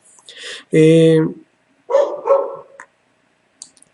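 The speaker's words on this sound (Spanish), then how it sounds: "Me disculpo por los ladridos, pero hay un perrito loco que está afuera" A small dog barks outdoors in a few sharp, loud yaps with gaps between them, followed by a faint short yip near the end.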